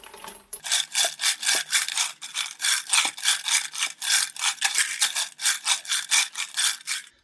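A Lyman media separator rattles and sifts tumbling media from a Lyman Turbo Pro 1200 tumbler in steady, loud, rhythmic rasping strokes, close up and without voices.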